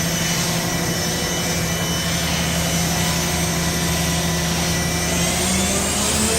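Mazak VTC-200C vertical milling machine from 2019 running its spindle at 10,000 RPM, a loud continuous high whine over a steady hum with no pauses.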